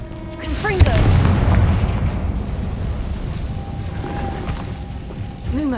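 Confringo fire spell detonating in Hogwarts Legacy, a heavy booming blast followed by a rumbling roar that sustains, with game whooshes and chimes layered over it.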